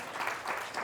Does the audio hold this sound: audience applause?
yes